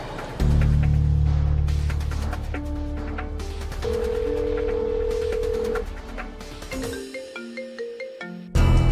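An outgoing phone call rings through a handset, with a steady tone and a repeating ringback pattern of held beeps that give way to shorter electronic tones, fairly loud and close with no talk over it.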